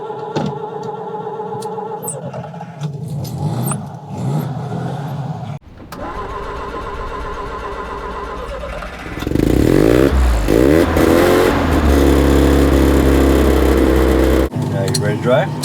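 A Mazda Cosmo sports car with the clutch in and the choke pulled cranks and catches, then settles into a loud, close idle that swells with revs from a few pumps of the throttle, with speech at the start.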